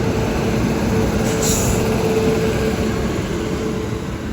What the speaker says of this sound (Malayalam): അതെ, കോർബ എക്സ്പ്രസ് ആണ്.